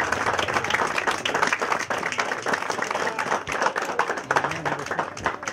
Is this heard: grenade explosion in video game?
no